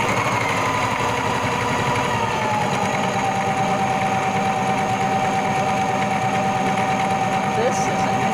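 A domestic sewing machine stitching steadily at close range, its fast, even mechanical whir and rattle running continuously and loudly throughout with no talk.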